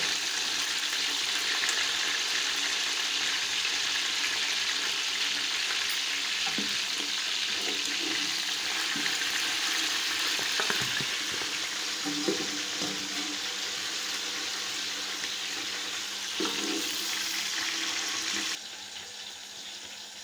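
Chicken frying in oil in a pan for Kabuli pulao, a steady close sizzle that runs on for about twenty seconds with scattered stirring and scraping, no talk.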